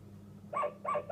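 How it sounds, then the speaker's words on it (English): A yellow toy dog gives two quick, close barks in succession, sharp and clear over a quiet background. "Yellow dog."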